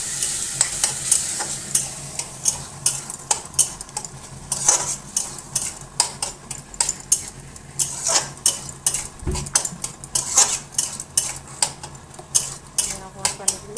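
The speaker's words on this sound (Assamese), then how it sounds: "এতিয়া পানীখিনি দিয়াৰ পাছত অকণমান আকৌ ভাজি" Jackfruit seeds and bottle gourd are stir-fried in a pan with a little water added. A utensil scrapes and knocks the pan in a repeated rhythm over a soft background sizzle, close and clear.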